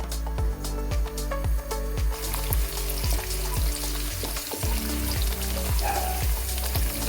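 Garlic sizzles and browns in hot oil in a pan for pasta alla cardinale, a steady loud frying crackle that runs without a break, with a few faint clinks of utensils over it.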